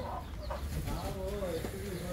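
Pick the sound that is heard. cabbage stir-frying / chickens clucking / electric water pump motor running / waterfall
chickens clucking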